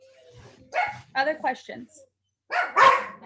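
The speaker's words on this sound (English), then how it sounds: "dogs are being bad" Dogs bark in a room during a lecture, a few short sharp barks mixed in among a speaker's voice.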